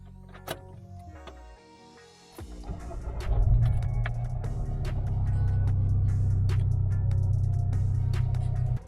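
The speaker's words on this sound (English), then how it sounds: "every time you do a cold start, you'll let the engine warm up" A turbocharged MK6 GTI engine starts cold after a few clicks, then settles into a steady, close idle with a low rumble.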